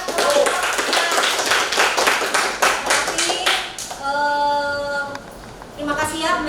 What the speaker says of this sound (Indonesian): kasih aplaus buat kelompok